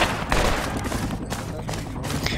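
Enemy gunfire in the military shooter video game Project Reality, a dense run of sharp shots and bursts at moderate distance that continues throughout, with faint voices mixed in.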